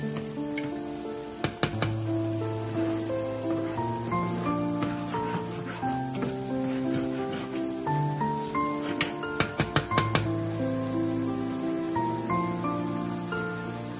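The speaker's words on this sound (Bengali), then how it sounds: "এর মধ্যে দিয়ে দিচ্ছি নারকেলের দুধ" Coconut milk goes into a pan of spiced sauce with tomato sauce for a Bengali hilsa malaikari, and a steady sizzle runs beneath louder melodic background music, with a few sharp clinks scattered through.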